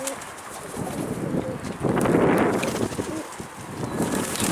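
Pigeons near their nest with chicks coo steadily in low, throaty rolling calls, fairly close, with a denser swell of cooing midway and light rustling throughout.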